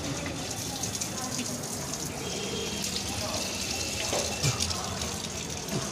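Drinking water runs steadily from a tap with a constant splashing gush, and voices murmur faintly in the background.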